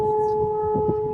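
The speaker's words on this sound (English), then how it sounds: "In Kursk, the air raid sirens sound" Air raid sirens sounding in Kursk, a steady sustained tone holding level through the brief moment, with low rumbling underneath.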